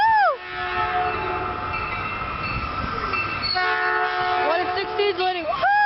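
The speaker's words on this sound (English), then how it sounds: "here comes the northbound Bombardier Express" A northbound Bombardier Express commuter train speeds past in Burlingame, sounding loud, bending horn blasts over a heavy rumbling roar of rail cars, very close, with excited voices cheering alongside.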